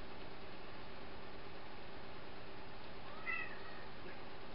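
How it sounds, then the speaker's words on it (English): A house cat gives a single brief meow, faint and in the background, partway through a steady low hiss. "now the cat in the background"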